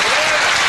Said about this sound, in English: the crowd gives him a very warm reception for that victory